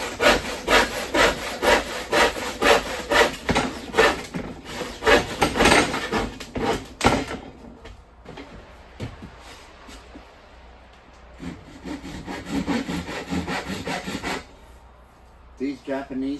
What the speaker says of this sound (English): using clamps to clamp your board down will make sawing much